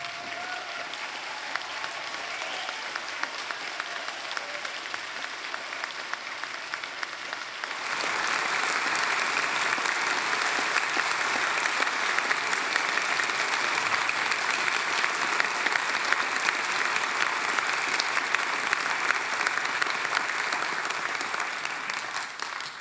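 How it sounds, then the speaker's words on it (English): Audience applause at a university graduation ceremony, starting at a moderate level and then swelling into fuller, louder clapping as more people join, sustained for over twenty seconds in a large hall. "we'll give them another round of applause."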